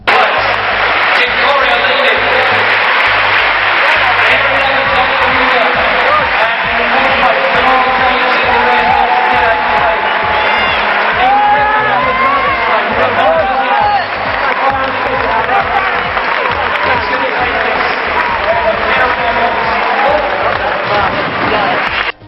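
A stadium crowd cheers and applauds continuously and loudly at the finish of a men's 800 metres heat, a dense roar of voices, clapping and whoops lasting throughout.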